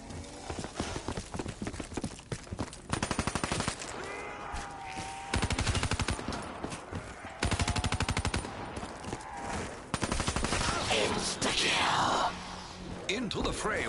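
Gunfire in Black Ops 3 Zombies comes in rapid automatic bursts a few seconds apart, fairly loud, over game music and effects, with voices talking between the bursts.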